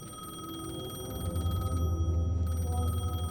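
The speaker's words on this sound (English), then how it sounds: "The payphone was ringing." A payphone rings in the video game Alan Wake 2, a steady electronic ringing held throughout at moderate level over a low ambient hum, with no talk.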